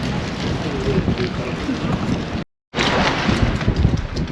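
Steady wind buffets the microphone on a breezy seafront in Poole, Dorset, a continuous broadband rush with low rumbling gusts, cut briefly by a moment of silence midway before resuming.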